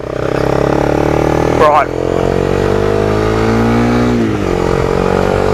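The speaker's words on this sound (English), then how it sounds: "Giving us up to 60 kilometres an hour" A Honda CB300F motorcycle accelerates close by with a loud, steady engine note that climbs through the gears, with a brief gear-change dip. A rider speaks a word over the engine.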